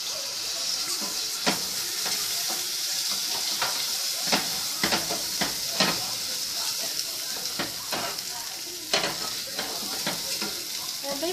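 Rice frying in a hot pan gives a steady close sizzle, with scattered clinks and scrapes as it is stirred.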